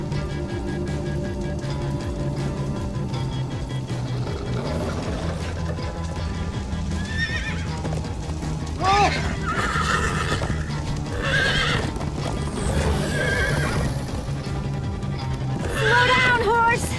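A horse neighs and whinnies several times over steady galloping hoofbeats and a constant low background in Minecraft: Story Mode, with voices talking over parts of it.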